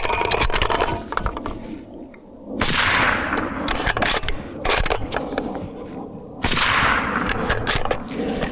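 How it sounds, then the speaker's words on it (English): Two suppressed .308 bolt-action rifle shots through a Dead Air Sandman suppressor, each a loud muffled crack with a fading tail, separated by a quick run of metallic bolt-cycling clicks and clatter. "I honestly feel like it sounds better to shoot with this bolt action all sealed up"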